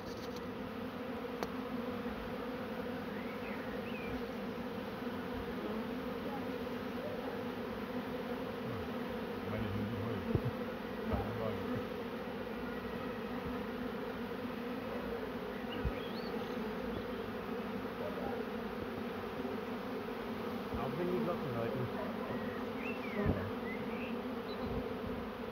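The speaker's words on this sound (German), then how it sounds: "hier eine kleine Bienenshow für euch" Honeybees drone around their hive in a dense, steady buzz, close and continuous, with individual bees flying past now and then and no talking.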